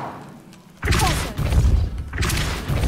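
Heavy spell impacts in Hogwarts Legacy: a quiet stretch, then a loud thudding blast, a sustained rumbling burst, and a second forceful hit near the end.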